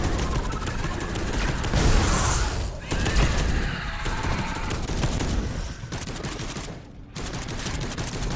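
Dense, continuous gunfire from the Warhammer Space Hulk video game, with overlapping bursts and heavy automatic fire filling nearly the whole stretch, briefly thinning near the end before picking up again.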